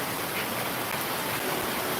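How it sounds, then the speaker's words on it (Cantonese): Heavy rain pours steadily onto a Hong Kong street, a dense, close, unbroken hiss of drops on hard surfaces with no voices over it. "你睇幾大雨！"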